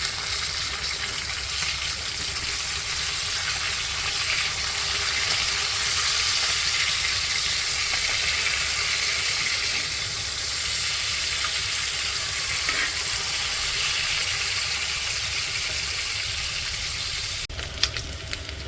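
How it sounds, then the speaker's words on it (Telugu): Four or five fish pieces fry in oil over a low flame, giving a continuous, even sizzle and crackle close by that carries on without talk. "ఇట్లా 4-5 ముక్కలు వేసుకొని సిమ్ మంట మీద వేయించుకోవాలి."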